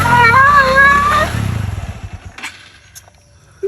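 A motorcycle engine runs close by and loud, its steady drone holding for about a second and a half before breaking into a rapid idling putter that fades, with a couple of sharp knocks near the end.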